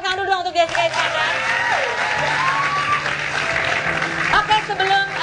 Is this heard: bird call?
no